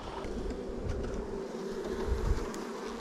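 Steady buzzing of many honey bees close by inside a hive, a continuous droning hum with no voices.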